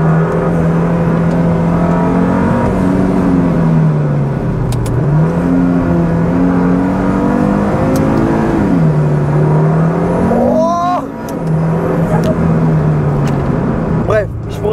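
A KTM X-Bow GT-XR sports car drives and revs hard, its loud engine note climbing and dropping through repeated gear changes, with a brief burst of mechanical clatter and whine near the end.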